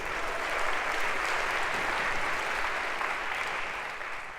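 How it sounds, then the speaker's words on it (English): A lecture hall audience at a Harvard introductory computer science class applauds a volunteer, a dense, even wash of clapping from many hands that fades slightly at the end. "sure, round of applause for our volunteer."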